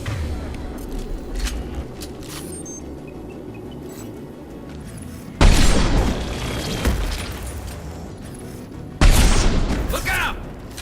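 A thrown grenade exploding in a video game, a sudden loud blast midway with a rumbling tail, followed by a second heavy burst, over a background of combat noise and people talking.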